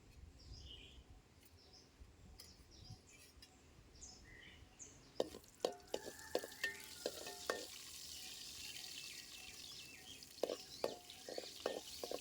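Cashews fry in about three spoons of oil in a wide kadai, starting as a faint simmer, then a louder sizzle with clinking stirs and scrapes of a spoon against the pan, and a few bird chirps far off.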